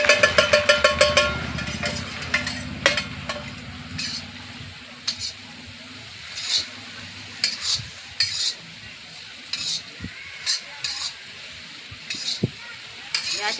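Grated coconut dry-roasting in a hot kadhai for homemade masala: a spatula scrapes and clinks against the metal in quick strokes at first, then slower irregular stirs over a soft crackle, close and alone.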